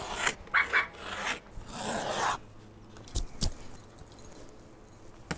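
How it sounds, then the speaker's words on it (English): A box cutter slicing off excess felt from a homemade mouse pad: a few rasping scrapes and cuts up close, followed by quieter handling with a couple of sharp clicks. "Then I'll go ahead and cut off the extra with a box cutter."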